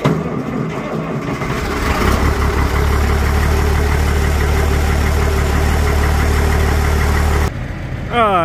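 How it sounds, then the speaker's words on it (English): A truck and a tractor idle with a steady, loud low rumble and rattling vibration, continuous throughout, with a brief voice near the end. "got the truck and the tractor warming up"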